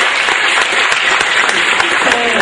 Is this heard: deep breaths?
no